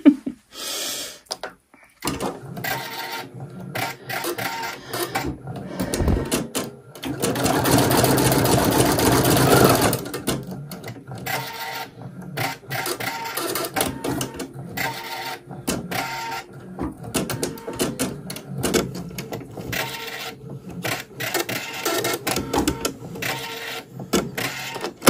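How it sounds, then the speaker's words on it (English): A Husqvarna Designer Epic 3 embroidery machine stitches a design, a steady mechanical whirring and clicking that runs almost the whole time, growing louder midway, with no talking. "Embroidery is finished"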